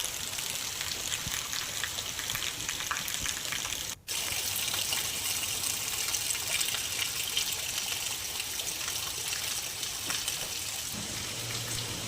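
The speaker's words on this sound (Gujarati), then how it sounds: "વેરાવળ શહેર તથા ગ્રામ્ય પંથકમાં વહેલી સવારે ધીમી ધારે વરસાદ નોંધાયો" Light rain falls steadily in early morning around Veraval, a dense, even hiss of drops with a trickling, watery texture, broken by one momentary gap and otherwise continuous throughout.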